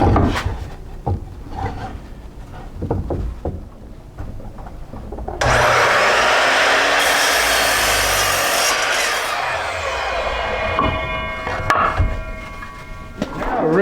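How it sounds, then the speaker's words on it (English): A power saw rips a board roughly in half lengthwise for an angled foot stool, its loud steady cutting whine running for about eight seconds after a stretch of quieter shop handling noises, then tapering off as the cut finishes. "Rip it approximately in half."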